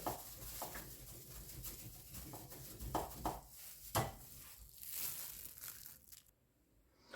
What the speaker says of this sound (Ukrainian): І сюди ж натираю сир.